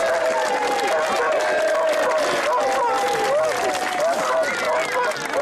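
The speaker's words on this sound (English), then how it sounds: "Give them a big round of applause." Studio audience applause for the teams at a televised scrapheap engineering contest, a dense, steady wash of clapping mixed with cheering and crowd babble, loud and continuous throughout.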